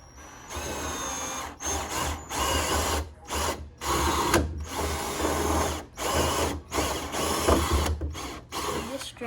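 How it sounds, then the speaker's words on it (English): A power drill bores a 3/4 inch drain hole into the bed of a 2017+ Ford Super Duty F250 truck, sounding as repeated close, loud bursts of whining motor separated by brief pauses. "we'll be drilling into this piece right here"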